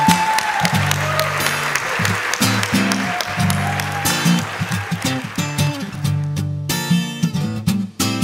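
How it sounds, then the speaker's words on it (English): Wedding guests at the Avalon clap for the newly married couple after the kiss, a dense, steady round of applause mixed with loud music playing throughout. "Can we all clap our hands together?"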